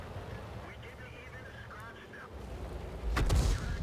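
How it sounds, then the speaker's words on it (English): Artillery fire in the World of Tanks video game lands as a single heavy, booming blast near the end, following a stretch of engine rumble and faint in-game effects. "Ooh. Artillery."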